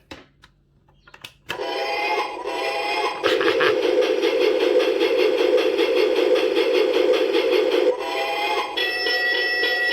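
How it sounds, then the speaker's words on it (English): A loud, steady electronic alarm tone with a rhythmic, train-like chugging pattern plays continuously for several seconds after a brief quiet start, from a Citizen table clock alarm. "the alarm is in form of sound of train"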